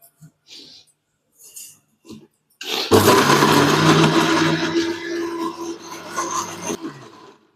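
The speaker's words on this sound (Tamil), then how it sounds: "கொஞ்சம் அரைச்சி எடுத்துக்கிட்டு அப்புறம் தண்ணி ஊற்றிக்கலாம்" An electric mixer grinder whirs loudly as it grinds batter from soaked chana dal and urad dal with a little water, starting abruptly after some faint handling sounds and running steadily for about four seconds before cutting off.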